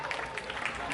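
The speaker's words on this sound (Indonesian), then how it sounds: "tepuk tangan dulu untuk" A class of school students applauds a classmate during a fire-extinguishing lesson with the Kebon Jeruk fire brigade, with steady, dense clapping filling the whole moment.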